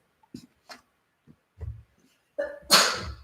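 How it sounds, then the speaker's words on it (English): A single sharp sneeze bursts out at the end after a few soft breaths and small rustles, close and fairly loud. "My daughter just sneezed."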